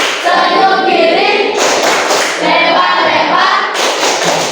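Children in a Year 7 classroom perform the 'tepuk senyum' clapping chant, loud rhythmic group hand claps in bursts with chanting voices mixed in, close and energetic.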